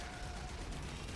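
Mausolon weapon firing continuously in Warframe, a dense unbroken rumbling blast of gunfire, loud and close, with no voices over it.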